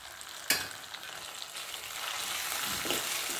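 Coriander powder and turmeric fry in a pan for a spicy Khandeshi urad dal curry, a close, steady sizzle with a sharp clatter at the start and stirring scrapes building beneath it.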